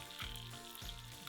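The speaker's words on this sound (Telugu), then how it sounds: "ఫ్రై అవుతుంది రా అది" Fish fries in oil with a faint, continuous sizzle and crackle, soft and close, and no talking over it.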